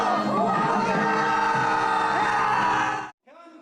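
A large crowd of 1,919 citizens shouting together in a plaza at the Independence Hall in Cheonan during a March 1st independence commemoration, a loud sustained roar of voices that cuts off sharply, followed by a brief clipped voice.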